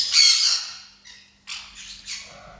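A pet parrot at a bird rescue lets out a close, harsh run of squawks: one long loud burst, then three shorter raspy cries after a brief pause.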